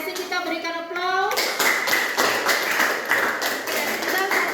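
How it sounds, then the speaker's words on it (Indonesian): A classroom group claps together after a short bit of speech, the dense, steady applause carrying on for several seconds. "kita berikan aplaus"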